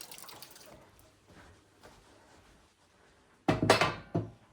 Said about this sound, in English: We'll both give it a rinse on that side.